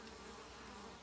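Steady, close buzzing of honeybees flying into their hive entrance during a heat wave, a dense continuous hum with no voices.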